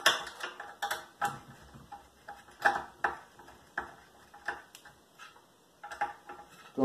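Screws are driven by hand to fix an arc of a modern six-arc LED chandelier, a close series of sharp ratcheting clicks and ticks in irregular bursts with brief pauses between turns.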